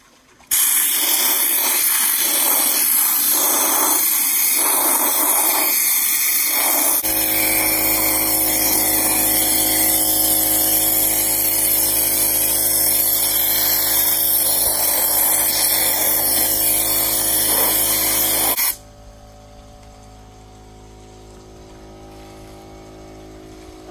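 Car rims being sandblasted with ordinary sandbox sand, a loud continuous hissing blast of air and grit running steadily close by for about eighteen seconds before cutting off to a quieter background hum.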